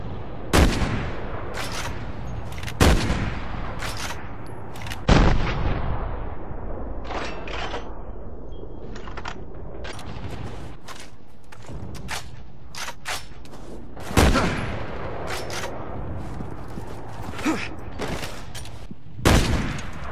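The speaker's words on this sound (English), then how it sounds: "The anti-materiel rifle can only be used by Piers Nivens. This is his personal sniper rifle" Piers Nivens' bulky anti-materiel sniper rifle fires in Resident Evil 6, loud single booming shots spaced a couple of seconds apart, each followed by a decaying echo and mechanical clicks between rounds.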